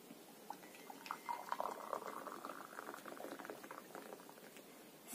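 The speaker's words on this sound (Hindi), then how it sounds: "इसमें हम क्या करेंगे, गर्म पानी डाल देते हैं।" Hot water poured into a photo magic mug gives a soft, steady bubbling trickle that lasts several seconds, faint and close with no voices.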